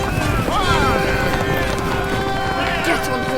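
Horses galloping as a radio drama sound effect, rapid hoofbeats running under excited shouting voices and a whinny-like cry throughout.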